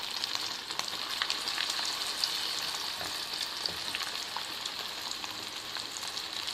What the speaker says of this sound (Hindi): कुक करना है सीख कबाब।